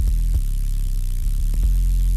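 A sine wave sub bass pushed through tube distortion gives a loud, continuous, buzzy low drone with slight pitch movement and faint rhythmic pulses, alone without talk.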